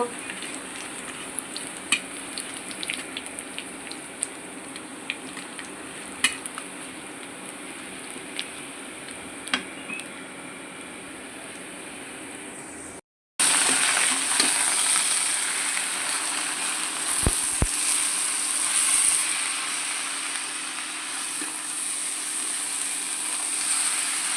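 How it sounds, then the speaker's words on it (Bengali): Steady sizzling of food frying in a pan until reddened, with faint scattered stirring clicks; after a brief cut the sizzle returns louder and brighter, close and continuous. "এভাবে ভেজে লাল করে নিব"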